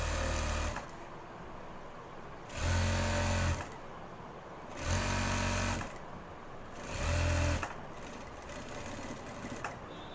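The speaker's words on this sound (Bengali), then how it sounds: "তারপরে সেলাই শুরু করবো" A sewing machine stitching a pant belt runs in three steady bursts of close, whirring stitching, each about a second long, separated by quieter pauses while the fabric is repositioned.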